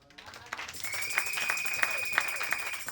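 A church congregation bursts into applause and clapping, with sharp hand claps standing out over a steady crowd wash and a sustained high tone, lasting about three seconds at moderate loudness.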